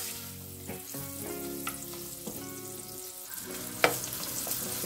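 Finely diced bacon frying in a pan for a low-carb farofa, a steady close sizzle with crackles, occasional stirring clinks and scrapes, and a sharp pop near the end.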